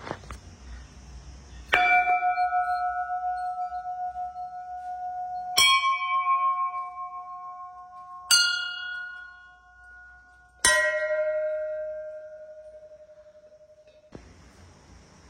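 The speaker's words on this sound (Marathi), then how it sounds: "थांबा घंटा वाजू दे." A metal temple bell is struck four times at slow, even intervals during a puja at a Shiva shrine, each strike close and bright, ringing out with a long shimmering decay before the next.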